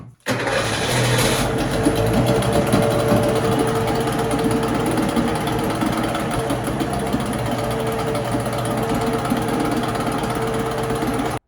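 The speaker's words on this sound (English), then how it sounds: "how does the engine sound at idle with the cover on?" A 1968 boat engine idling with its cover on, a loud, steady, even mechanical chugging that runs unbroken for the whole stretch after a sudden start.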